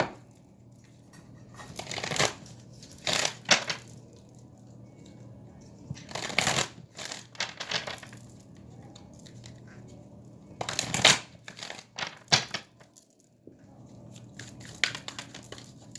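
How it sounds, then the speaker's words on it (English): Tarot cards being shuffled, several separate bursts of riffling and flicking spread over time with quiet gaps between, close and fairly soft, with no talking. "I'm going to pull new cards for another message though"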